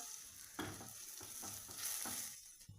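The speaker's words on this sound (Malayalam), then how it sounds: "നമ്മുടെ ഇഞ്ചി വെളുത്തുള്ളി സവാള പച്ചമുളക് ഇതെല്ലാം നാണ്ട ഈ പരുവത്തിൽ നമ്മൾ പഴന്ന് കിട്ടി" Ginger, garlic, onion and green chili sauté in a pan, with steady sizzling broken by a few spatula stirs and scrapes close to the mic; no one speaks.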